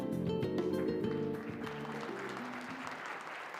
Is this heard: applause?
yes